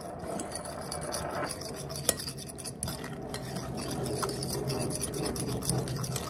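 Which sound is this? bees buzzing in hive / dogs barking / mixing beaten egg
mixing beaten egg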